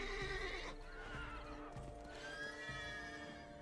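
A horse in The Witcher 3 lets out a loud, wavering whinny, with a few clip-clop hoof steps and faint game ambience behind it.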